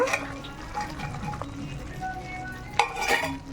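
Fried eggs being stirred into a Telugu egg pickle (pachadi) in a pan after the stove is switched off, giving a soft, steady scraping and stirring sound with faint sizzle and a sharper clatter near the end.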